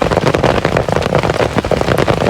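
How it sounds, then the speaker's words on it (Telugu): Heavy rain pours outdoors in a rural farming area under dark clouds, a loud, dense, unbroken roar close by with no voices. "మేమున్న దగ్గర నుంచి అయితే చుట్టూ లొకేషన్ మబ్బులు వేసేసి చాలా పెద్ద వర్షమే పడుతుంది"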